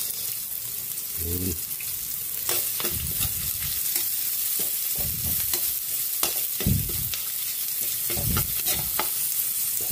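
Onion sautéed in a frying pan for pinakbet, with a continuous loud sizzle and frequent scraping and clattering stirs up close, and a brief spoken word.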